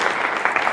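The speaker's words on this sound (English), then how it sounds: "we need to give them a big round of applause" Indoor audience at an opening session giving a round of applause, a dense, even wash of many hands clapping at close range, steady throughout with no speech.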